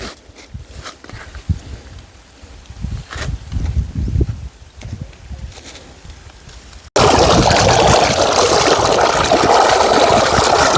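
Fresh well water flows out into an onion field in a village farm, first a soft trickle with scattered rustles, then a sudden loud, steady rush of water close by.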